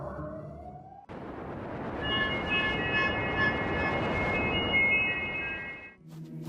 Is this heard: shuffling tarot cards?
no